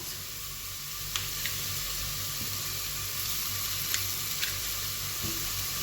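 Chopped onions sautéing in a spoonful of homemade ghee and oil in a pan, a steady soft sizzle running alone throughout with a few faint clicks of stirring.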